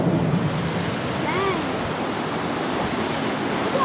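Floodwater rushing through the Nine Mile creek near Holland Patent, New York, running about ten feet deep instead of its usual one foot. The roar is broad and steady throughout, and a brief voice sounds faintly over it.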